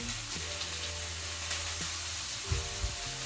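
Cabbage and meat stew cooking in a pot, a steady low sizzle and bubbling hiss with faint stirring clatter near the end, no voices.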